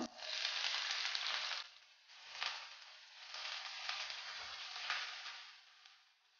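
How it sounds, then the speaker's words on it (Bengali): Chopped onion hitting hot oil with half a spoon of cumin seeds, a steady loud sizzle that swells and eases in waves as it is stirred, with no talking. "পেঁয়াজটা তেলের মধ্যে নিয়ে নেব।"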